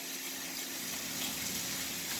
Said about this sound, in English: So I'm just going to rinse it a little. Again, using cold or lukewarm water.